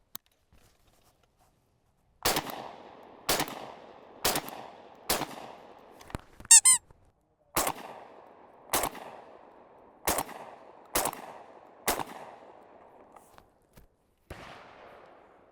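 A Tokarev T300 A1 12-gauge semi-automatic shotgun fires outdoors in a series of loud, sharp blasts, about ten shots spaced roughly a second apart with a brief pause midway, each followed by a short echo.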